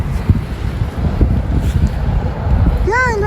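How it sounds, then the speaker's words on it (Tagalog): Strong wind buffets the microphone in loud, gusty rumbles while flying a kite, with a voice speaking briefly near the end. "Ang lakas ng hangin."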